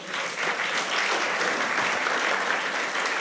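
Audience applause fills the room at a live book-premiere debate on inflation, a steady, dense clapping that holds loud and even throughout without breaks.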